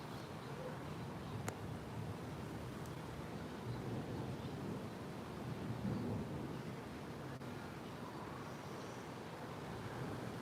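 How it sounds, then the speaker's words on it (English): Rolling thunder rumbles low and faint across the whole stretch, a steady distant growl with slight swells and no clear claps. "Thunder rolls."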